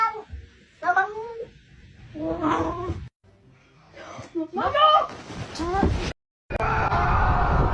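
Cats meowing and caterwauling in loud, drawn-out, pitch-bending screams, several calls in a row close up, mixed with people shouting and yelling.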